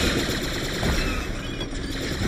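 Dense, continuous gunfire from a Star Wars: Empire at War battle, many overlapping shots blending into a loud, unbroken rattle with no pauses.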